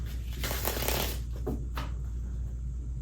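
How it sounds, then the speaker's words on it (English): Tarot cards are shuffled by hand in a burst of riffling and flicking, close and fairly loud, followed by a few softer card taps, with no speech. "Can I get a clean shuffle"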